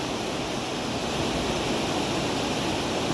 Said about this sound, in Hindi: ये है रिवर